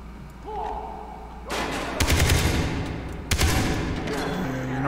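Gunfire crackles in a Far Cry 3 firefight, with bursts of shots and heavy thumps coming in clusters over a low rumbling background.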